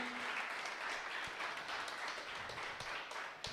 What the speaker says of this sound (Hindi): ताली बजाएंगे अपने परमेश्वर के लिए।